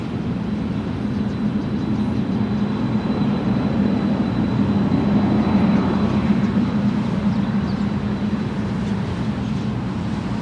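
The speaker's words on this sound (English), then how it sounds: "UPS 2900, Boeing 767-300," A UPS Boeing 767-300 at Los Angeles International Airport produces a steady, loud low engine rumble that holds evenly for the whole stretch, with no voices over it.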